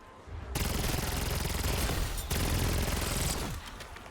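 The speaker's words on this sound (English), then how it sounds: "That was like an entire mag of this SMG to kill a single zombie on round 32." A fully upgraded SMG fires a long, continuous burst in Call of Duty Black Ops 7 Zombies, a dense, loud rattle of rapid shots with a brief break partway through before the burst resumes and ends.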